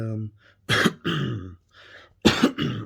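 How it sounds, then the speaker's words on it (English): Several harsh, throaty smoker's coughs close up, coming in short separate bursts with brief pauses between them. "This is my smoking cough."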